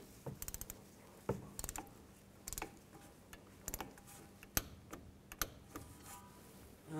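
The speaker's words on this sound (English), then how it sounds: "Now I'm going to torque these bolts to 20 foot-pounds." Torque wrench tightening brake caliper bolts on a 2013-19 Nissan Sentra during a front brake job: a series of sharp mechanical ticks and clicks in small bursts, close up and fairly quiet, with a faint steady hum beneath and no talking.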